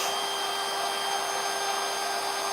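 A handheld power carving tool fitted with a carving liner bit, running as a steady, even, high whine that sounds close and continuous, with no talk.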